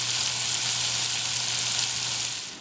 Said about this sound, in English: Still sizzling a little bit